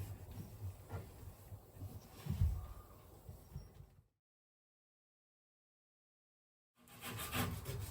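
Rough, scratchy rubbing strokes of hand sanding on wood in a boat's storage compartment, close and fairly quiet, stopping into silence before resuming.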